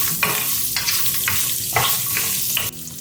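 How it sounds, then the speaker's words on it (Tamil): Ten small onions and garlic are stirred in a hot frying pan for a hotel-style salna, with sizzling and repeated quick scraping strokes of the spoon, close and lively. "இப்போ இது கூட 10 சின்ன வெங்காயங்கள் சேர்த்துக்கோங்க. இதையும் ஒரு தடவை மிக்ஸ் பண்ணிக்கோங்க."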